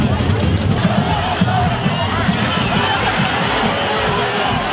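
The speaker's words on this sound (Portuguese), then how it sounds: "Atenção da torcida do Remo agora, ó" Remo football supporters chant together in a packed stadium at a Remo versus Paysandu derby, a dense, steady roar of many voices close around.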